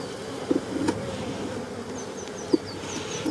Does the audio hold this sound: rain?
no